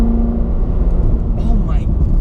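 A C7 Corvette Z06 driving through a tunnel, its engine a loud, deep, steady roar that fills the space and echoes off the walls.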